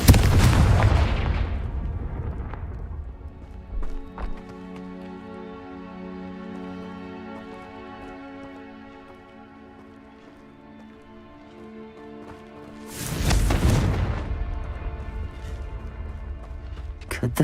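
Confringo blasting spell in Hogwarts Legacy, a sharp burst at the start followed by a long ringing, humming tail and a second loud blast near the end, with a voice briefly heard.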